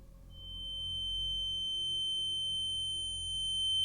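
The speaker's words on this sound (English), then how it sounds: "Is this supposed to be Morse code?" Pure electronic tones hold steady in a sustained, Morse-like signal, with several high pitches entering over a low hum, faint and alone without voices.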